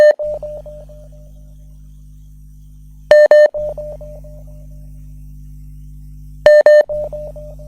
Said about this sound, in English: There we caller on WhatsApp. Can you hear me? Caller on WhatsApp. Connecting.